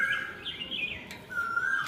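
An Asian koel calls outdoors on an afternoon, a clear, fairly loud whistled phrase that rises and falls over a quiet background.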